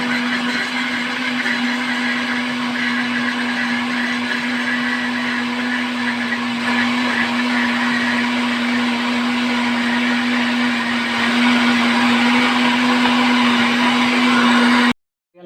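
An electric mixer whisks cake batter for a marble cake as oil is slowly trickled in, a loud steady high-pitched motor whine running unbroken until it cuts off at the end.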